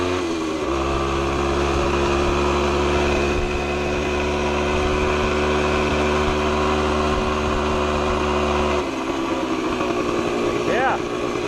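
A 1975 Yamaha DT125B motorcycle engine runs close by with a steady tonal hum while being shifted through its gears after a sticking clutch came unstuck, the pitch dropping near the end, with talk throughout.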